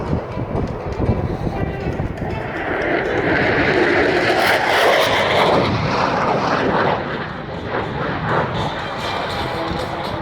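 An F/A-18 Super Hornet fighter jet roars past at over 1,000 km/h in a high-speed airshow pass, its loud engine noise swelling to a peak and then fading over several seconds.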